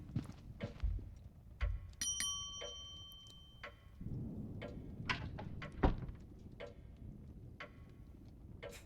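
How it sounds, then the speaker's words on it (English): A bell rings in the telegraph room of a video game manor, sounding a few bright metallic rings among soft clicks and thumps, fairly quiet overall. "Okay, let's just ring the bell."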